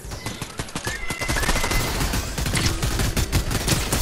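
Rapid automatic gunfire from a Fortnite boss fight, a dense, loud fusillade of shots cracking continuously throughout with no pauses.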